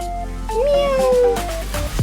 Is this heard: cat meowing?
yes